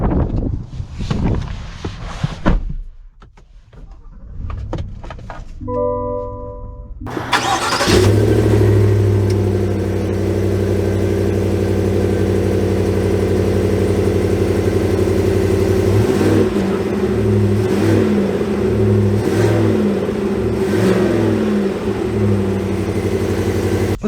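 A 2022 Chevy Tahoe Z71 engine starts after a few clicks and settles into a loud, steady run, with a smooth drone and occasional surges as the SUV pulls away, close and continuous.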